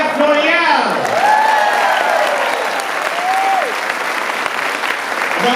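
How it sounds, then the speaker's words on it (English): A crowded audience applauds loudly and continuously for a chef at an event in Bar Harbor, Maine, while a voice speaks over the clapping. "Another round of applause for L'Oreal."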